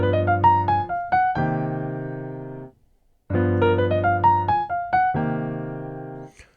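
A short altered jazz lick over a G altered dominant chord, played on a sustained, clean keyboard-like instrument: a quick run of notes settling onto held chord tones, then repeated after a brief pause.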